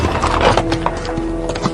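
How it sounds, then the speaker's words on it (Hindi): Horses galloping in a horror story, a loud flurry of rapid, uneven clip-clopping hoofbeats on hard ground, close by and irregular, with no talk over them. "ऐसा लगा मानो सारे घोड़े दौड़ते हुए गेस्ट हाउस के सामने ही आकर रुक गए थे"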